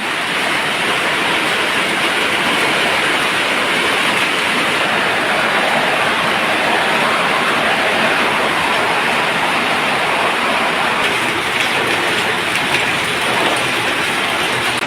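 Heavy rain pours down steadily at a canal-side garden house, a dense and loud hiss with no breaks that fills the whole stretch. No voices are heard over it.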